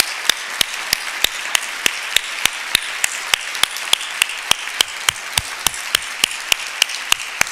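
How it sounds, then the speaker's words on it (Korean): A church congregation applauds during a pastor's installation service. A sustained wash of many hands runs through it, punctuated by a sharp, evenly spaced beat of louder claps keeping a steady rhythm. "우리 박수로 진심으로 축하 한번 합시다."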